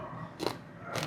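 Close crisp crunches of biting into a dried, chip-like snack coated in barbecue honey marinade: two distinct snaps about half a second apart, with no talk.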